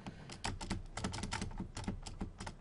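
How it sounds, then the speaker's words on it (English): Tab and space keys tapped on a computer keyboard, a close, quiet run of quick clicking keystrokes in an irregular rhythm with short pauses, and no voice over them. "I'm going to use my tab and space keys to do that."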